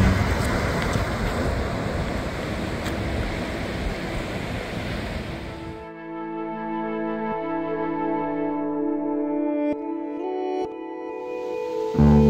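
Ocean surf washing ashore at Maravanthe's golden sand beach on coastal Karnataka, a steady close roar of breaking waves with wind buffeting the microphone; midway the wash drops back to a softer, tonal background hum.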